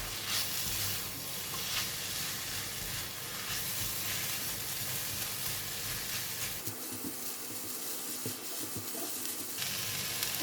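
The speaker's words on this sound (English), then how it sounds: "Stir fry first." Cabbage, chili and carrot sizzle in a hot pan as they are stir-fried, a continuous moderate hiss with soft stirring scrapes, the frying dipping briefly partway through before rising again.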